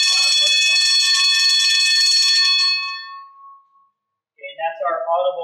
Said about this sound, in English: that's our audible water flow for the alarm check valve